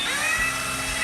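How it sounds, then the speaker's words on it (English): A power driver whines steadily while driving a screw into a wooden birdhouse, a close, continuous buzzing drone with no pauses. "I'll screw that in"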